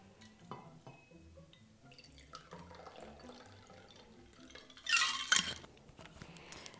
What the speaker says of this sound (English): Let me just actually pour some in a martini glass here.